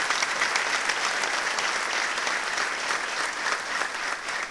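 A church congregation breaks into sustained, dense applause, many hands clapping together evenly from start to finish with no pause.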